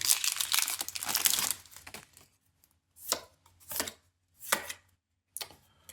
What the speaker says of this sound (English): I forgot these rip open down the side.